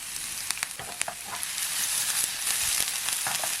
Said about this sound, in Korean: 식용유를 넣어주세요. 파기름을 내줄 겁니다.